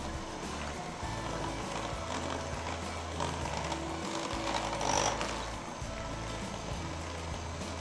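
An electric hand mixer beats carrot cake batter, a steady buzzing motor drone with the beaters churning through the thick mixture, close and continuous, rising slightly mid-way with no speech.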